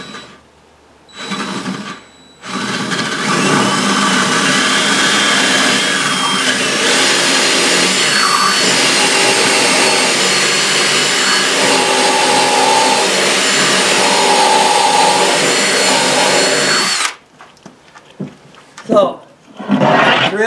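A power drill bores a 3/8 inch hole lengthwise into material for a homemade mini conveyor dryer, with a loud sustained whine and roar close by for about fifteen seconds. Brief talk comes before and after it.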